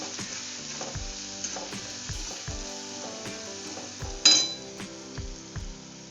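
Turmeric and red chili powder are stirred into a sizzling pan of cabbage paratha filling, with steady frying hiss, repeated spoon scrapes and one sharp metallic clink, close and alone.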